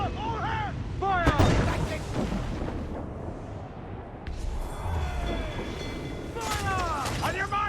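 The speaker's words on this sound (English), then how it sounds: "They're firing mortars!" Heavy mortar and cannon fire in Assassin's Creed IV naval combat, a continuous rumbling barrage of booms and blasts with shouting voices rising over it at the start and end.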